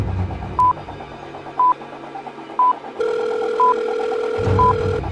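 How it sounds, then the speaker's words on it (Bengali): A telephone is dialed to call the bomb squad: a string of evenly spaced beeping keypad tones over a low hum, followed by a steady ringing tone in the line. "তাড়াতাড়ি বোম স্কোয়াডকে ফোন করো"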